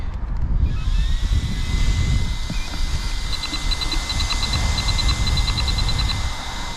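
A loud, steady RC rally car motor whine with broadband rumbling noise and faint high-pitched chirping pulses from a faulty ESC, close up and continuous.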